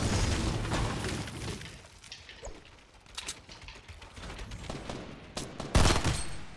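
Video game gunfire: scattered shots and bursts with a few louder booms near the end, fairly loud against a busy background and with no talk.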